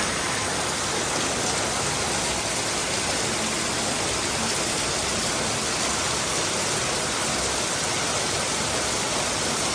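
Rain pours steadily in Vientiane, a dense, even hiss of falling water that stays loud and unbroken with no voices over it.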